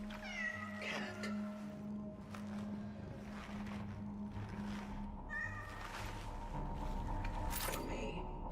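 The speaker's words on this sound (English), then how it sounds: "Cat." A video-game cat meows several times, with a drawn-out caterwauling cry near the end, over a steady low engine-like hum and background game noise.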